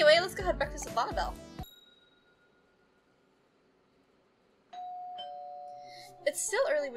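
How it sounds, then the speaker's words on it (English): A video game doorbell rings as a clear two-tone electronic chime sounding once midway through, with a voice speaking before it and again right after. "It's still early when you hear your doorbell ring."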